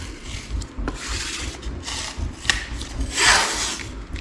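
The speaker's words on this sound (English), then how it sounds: "So I'm gonna tape it off" Tape is rubbed down and pulled over the intake of a 6.0 LS V8 engine during a rebuild, with soft crinkling rubs and a louder ripping stretch of tape near the end, close by.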